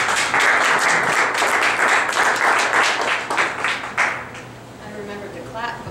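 An audience at a 1 Million Cups St. Louis business pitch event claps in loud, dense applause for about four seconds. It then thins out and fades as a voice begins speaking.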